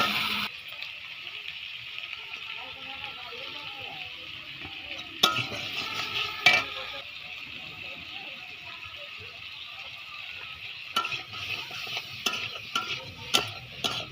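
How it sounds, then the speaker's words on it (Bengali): Potatoes, tomatoes, onion and green chilli are stir-fried together in a pan, a soft sizzle broken by several sharp scrapes and clatters of the spoon against the pan. "ভালো করে একসঙ্গে একটু কষিয়ে নেব।"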